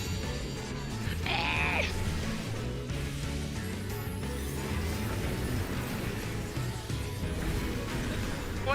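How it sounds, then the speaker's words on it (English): Dragon Nidhogg screaming in the video game Final Fantasy XIV, a short shrill bleating cry that rises over dense game music and battle noise. "That's your Nidhogg scream."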